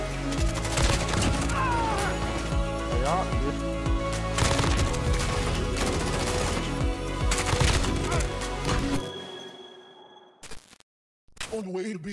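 Rapid bursts of video game gunfire crackle densely over busy in-game effects for about nine seconds, then cut off into near silence with a few faint clicks.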